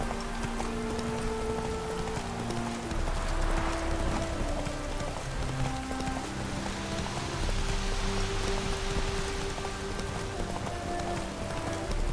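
In The Witcher 3, a horse gallops through steady rain, its hoofbeats clip-clopping beneath a dense hiss of raindrops and ambient game sound that runs throughout.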